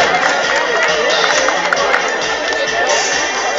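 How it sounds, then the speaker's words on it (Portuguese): A rodeo crowd at a Festa do Peão in Nova Aparecida, Icaraí de Minas, applauds a drover from São Francisco, a dense, steady wash of clapping and cheering that holds loud throughout. "Aí recebendo com uma grande salva de palmas"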